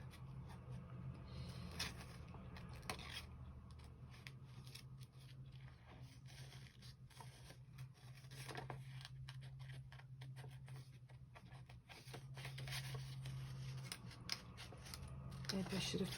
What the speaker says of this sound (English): I'm wondering if I can fussy cut this crown